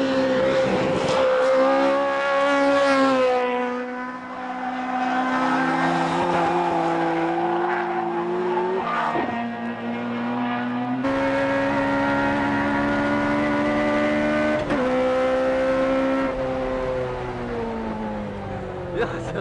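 Toyota 86 race car lapping a circuit with tires at the limit, its engine loudly revving and shifting through the gears up close, with tire squeal and a commentator talking over it.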